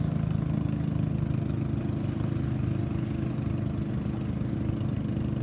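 A small outrigger boat engine drones steadily at a constant pitch, a continuous low mechanical hum close by with no talking.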